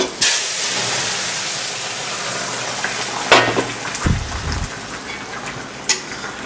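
Rohu fish curry with raw pumpkin poured into a hot pan, bursting into a loud, steady hiss and sizzle that carries on with brief crackling flare-ups.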